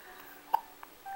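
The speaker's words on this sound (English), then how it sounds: "Got the hiccups." A baby's hiccups, a couple of short, soft hic sounds spaced apart in a quiet room, with no talking over them.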